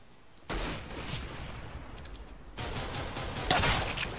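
Bursts of rapid gunfire from a Minecraft game modded to play like CSGO, a dense crackling volley that starts abruptly, eases, then returns louder with sharper shots near the end; no talking.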